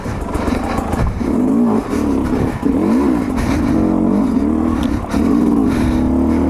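A Sherco 250 SE Factory two-stroke dirt bike on a rocky trail revs loud and close. Its engine pitch rises and falls in repeated throttle blips with no talk.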